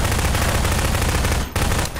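Sustained rapid gunfire from a Garry's Mod Prop Hunt match, loud and dense for about a second and a half, then a brief break and a short final burst.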